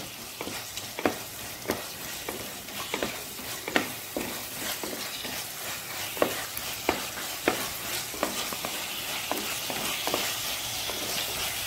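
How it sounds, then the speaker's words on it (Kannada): Chicken garlic roast, Karavali style, frying and being stirred in a pan over a high flame: steady loud sizzle with regular scraping strokes of the spoon roughly every second, no voices. "ತಿರುಗಿಸ್ಕೊಳ್ಳುವಾಗ ಉರಿ ದೊಡ್ಡದಿರಬೇಕು. ಒಳ್ಳೆ ಇದರಲ್ಲಿ ಫ್ರೈ ಆಗಲಿ ಅದು"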